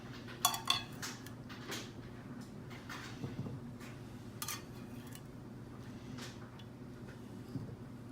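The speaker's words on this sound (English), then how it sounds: "I'm gonna scoop up these potatoes and onions, and I'm just gonna put those right into a serving dish." Roast potatoes and onions are scooped into a serving dish with a spoon, making scattered metallic clinks and scrapes against cookware, loudest near the start, then sparse taps over a low room hum.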